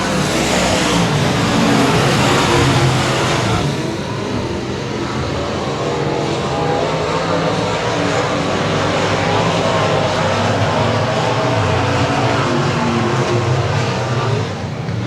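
Stock cars racing laps at Cotton Bowl Speedway, a steady loud roar of engines droning continuously around the track, swelling slightly early on then holding a dense, sustained rumble throughout.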